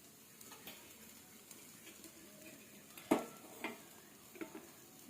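Grilled chicken pieces fry in a little oil on a pan with a faint, steady sizzle, broken by a few soft clinks and scrapes from stirring.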